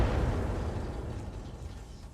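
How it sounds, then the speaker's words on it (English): A deep, rumbling blast of weapons fire destroying a light LRM turret in the RogueTech BattleTech mod, a heavy low boom that slowly decays over two seconds with no other sound. "we're going to fire on that light LRM turret"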